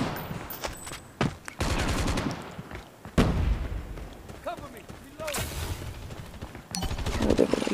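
Rapid machine gun bursts and gunfire from Call of Duty Mobile, loud and dense, firing in repeated rattling volleys with short gaps, accompanied by game effects and explosions.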